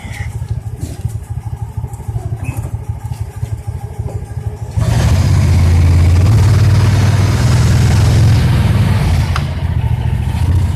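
A 2014 Landmaster LM650 UTV engine idles with a steady low rumble, then swells into a louder, fuller drone as the vehicle pulls away and keeps driving, close and continuous with no talking.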